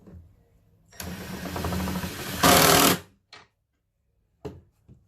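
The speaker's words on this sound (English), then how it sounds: "Take the wrench, hold one side, and use the impact driver." An impact driver tightens a nut on a cart wheel, firing in a couple of seconds of close, loud, rapid hammering bursts that rise in intensity, followed by a few brief clicks and knocks.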